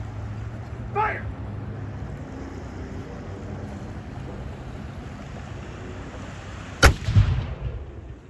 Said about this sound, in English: So there is an artillery salute to welcome you all to Michelin Mackinac today